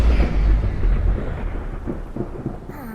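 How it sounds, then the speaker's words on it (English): Heavy thunder rolls loud and close at the start of a thunderstorm, then fades into a softer rumble with a faint patter of rain underneath. "Oh man, I hate storms."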